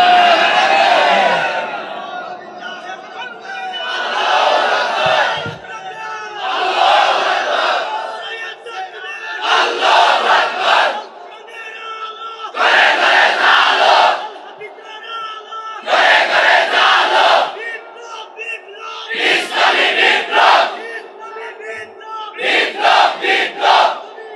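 A large crowd loudly chanting takbir, Allahu Akbar, in repeated roaring waves, each surge of massed voices separated by brief pauses, close and powerful throughout.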